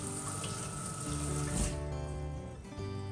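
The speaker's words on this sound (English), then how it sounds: "Let me rinse." Ginger root rinsed under a running kitchen tap, a steady splashing stream of water hitting the root and sink, close and continuous with a brief surge midway.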